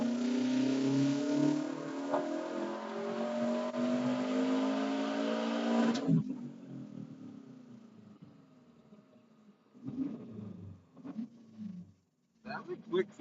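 A tuned car engine on a Cobb flex tune revs hard and loud for several seconds with a rising roar, then cuts off, followed by quieter engine sounds and bits of people talking.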